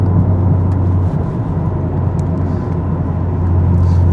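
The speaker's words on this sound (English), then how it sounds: "You hear every bit of gravel too when you're driving these things." Nissan GT-R race car rolling over gravel, a loud constant low engine drone and rumbling road noise heard from inside the cabin, with faint scattered crunches and ticks from stones, no talking.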